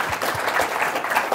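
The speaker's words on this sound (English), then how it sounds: "round applause to this table, please" Brief burst of audience applause at a property conference, a dense, fairly faint patter of many hands clapping with no talk.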